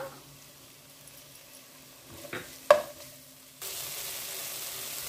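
Tomatoes fry in a pan for chicken biryani, a faint sizzle with a few stirring scrapes and a sharp clink, then a louder steady sizzle rising toward the end, with no voices.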